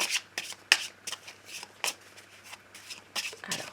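A deck of oracle cards is shuffled by hand in quick, repeated rustling riffles. The bursts are close and crisp, with short pauses between them.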